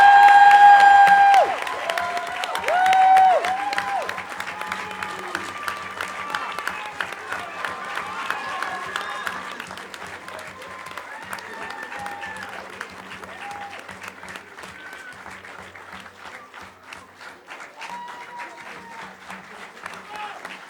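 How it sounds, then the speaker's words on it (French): Applause from a municipal council audience, a loud burst of clapping that swells early, then settles into steady, dense clapping with a few voices and cheers mixed in throughout. "je vous demande pour notre 12e adjointe un tonnerre d'applaudissements"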